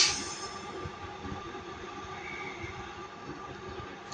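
Class 323 electric trains, units 323-208 and 323-220, rumble steadily through Manchester Piccadilly station, a continuous broad roar of wheels and motors with faint rail clatter and no talk.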